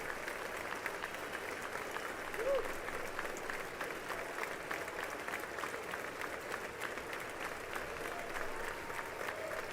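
Applause and clapping in the chamber during the State of the Union address, a distant, even roar of many hands that carries on steadily for the whole stretch.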